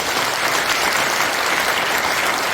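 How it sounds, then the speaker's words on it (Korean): Dense, steady applause from an audience at a Christian prayer breakfast in a National Assembly conference hall, many hands clapping continuously and loudly with no voices on top. "우리 대통령께도 한번 박수 한번 보내주시고"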